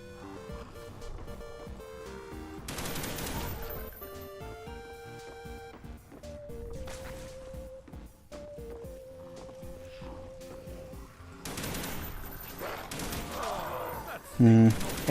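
Bursts of rapid gunfire from Call of Duty: Black Ops 1 Zombies come in several clusters over a steady game soundtrack, loud and close, with a brief louder hit near the end.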